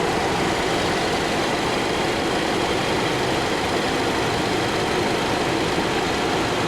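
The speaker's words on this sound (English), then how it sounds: "it's got this little 4-cylinder turbo engine in it" A 2021 Jeep Wrangler Unlimited Willys with a small 4-cylinder turbo engine runs with a steady, even drone and broad mechanical hum, constant in level throughout and with no talking.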